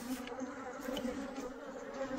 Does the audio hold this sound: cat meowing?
no